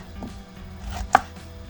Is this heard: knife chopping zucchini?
yes